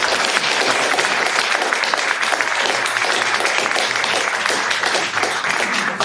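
Audience at a general election hustings in Porthcawl breaks into loud, continuous applause from a packed hall, a dense even roar of clapping hands throughout.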